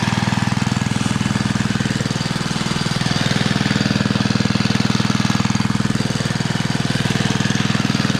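An old engine, unrun for about ten years, runs steadily and slightly over-fueled, giving a loud, continuous rapid chugging throb with no talk.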